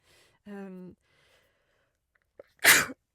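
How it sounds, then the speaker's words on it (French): A single sharp, close human sneeze bursts out after a brief voiced breath and a short pause, in an otherwise quiet room. "Pardon, j'éternue."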